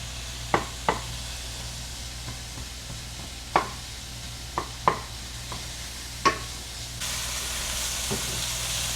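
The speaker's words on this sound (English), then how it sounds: "Get the onions in." Onions cooking in a pan while Thanksgiving dinner is prepared, a steady soft sizzle broken by a series of sharp knocks and clacks from stirring or utensils, growing louder and hissier near the end, no voices.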